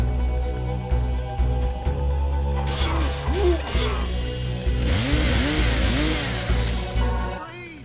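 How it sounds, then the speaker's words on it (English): A petrol-sounding chainsaw in the video game Evil Dead revs and buzzes in repeated rising and falling bursts, loud and close, with crashes and splattering game effects layered over it. "It can't be an electric chainsaw because of the sound."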